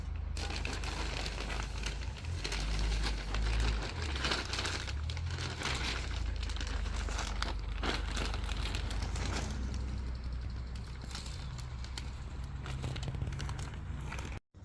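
A bag of Verus Engineering hardware for a Mazda ND Miata rear diffuser is handled up close, giving continuous plastic crinkling and rustling with small rattles of parts inside.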